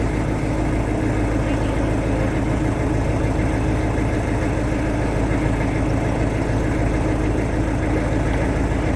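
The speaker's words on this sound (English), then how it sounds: "I'm just hovering here on chugs and waiting for the ladies to see John through" A narrowboat engine idles steadily while the boat waits at a canal lock, a loud, close, continuous low chugging throb with constant vibration and no voices.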